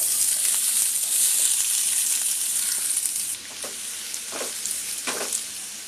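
Onions sizzle steadily in hot oil in a pan, a loud continuous frying hiss, then softer with a few scraping stirs near the end.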